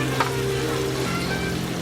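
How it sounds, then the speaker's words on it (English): Seasoned chicken breast with salt and black pepper cooking in a pan for chicken alfredo: a steady, close, crackling sizzle that holds at an even level throughout. "we're gonna go ahead and let this cook until it sizzles"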